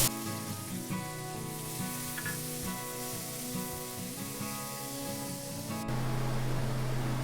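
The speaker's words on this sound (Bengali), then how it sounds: "এখন আমি পেঁয়াজ কুচি দিয়ে দিব।" Steady frying sizzle of chopped onion in hot oil, moderately loud and close, with a strong tonal hum and some clinking running underneath; the texture shifts slightly near the end.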